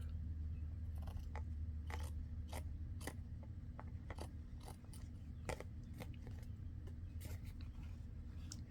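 Scissors trim the side off a paper index card in a string of short, crisp snips spaced about half a second apart over a low, steady background hum.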